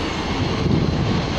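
Northern class 150 diesel unit 150123 pulls out of York station with a dense, steady rumble and rushing noise, close and loud, with wind buffeting the microphone throughout.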